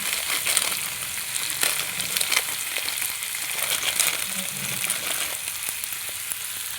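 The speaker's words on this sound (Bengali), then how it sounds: "দিয়ে আলুটা খুব ভালোভাবে কষাবো কাশ্মীরি লঙ্কা গুঁড়ো সামান্য পরিমাণে দেবো" Potatoes sautéing in a hot pan with cumin and Kashmiri chilli powder, a steady close sizzle with scattered scrapes and stirring taps from a spoon, no voices over it.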